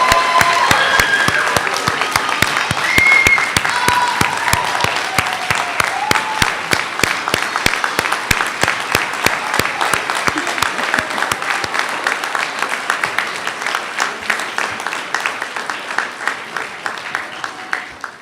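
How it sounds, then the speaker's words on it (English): Graduation audience for a practical nursing class of 2017 breaks into sustained applause, settling into steady rhythmic unison clapping that carries on for many beats and slowly fades. "let's hear a big round of applause for the class of"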